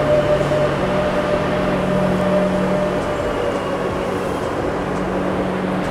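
A Madrid metro train pulls into a station on the way to Santiago Bernabéu, a loud, steady rumble with a low electric hum that fills the whole stretch, and nobody speaks.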